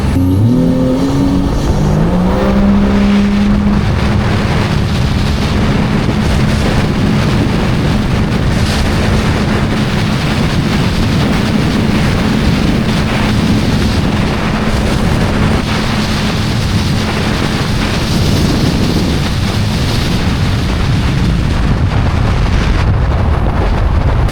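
A 2024 Sea-Doo RXP-X 325 jet ski with bolt-on mods screams along at over 80 mph, a loud, sustained engine roar buffeted by heavy wind and water noise.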